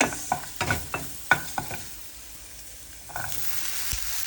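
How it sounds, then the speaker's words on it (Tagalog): Garlic frying in oil crackles quietly while a utensil clacks through several quick stirs, then the sizzle settles into a low steady hiss. "May mantika na. Lunod na natin ang ating garlic. Mix, mix, mix."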